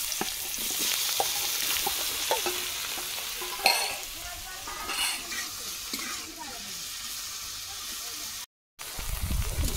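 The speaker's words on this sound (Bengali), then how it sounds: "হালকা করে চিংড়ি মাছ ভেজে নেবো।" Shrimp fry lightly in hot oil in a kadai, with a constant near hiss and sizzle broken by scattered stirring clicks and a short gap near the end.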